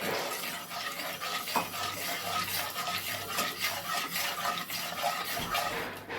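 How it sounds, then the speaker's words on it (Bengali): Spices with a splash of water being stirred in a pan for a vegetarian potato and cauliflower curry, a continuous wet sizzle with frequent scraping and knocking of the spoon against the pan, close and clear. "সব দিয়ে পরিমাণ মতো একটু জল দিয়ে এটাকে আগে একটু নেড়ে নাও।"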